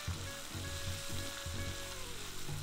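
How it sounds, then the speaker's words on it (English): Green onion and sliced carrots sauté in a hot pan with a steady, close sizzle and soft rhythmic pulses of stirring throughout, no voices. "Saute for 2-3 minutes, then add in chopped cabbage."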